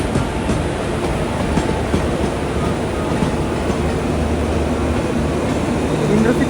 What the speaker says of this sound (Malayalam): ഇവിടെ 1ാം നമ്പർ പ്ലാറ്റ്ഫോമിലേക്ക് ഒരു ട്രെയിൻ വരികയാണ്.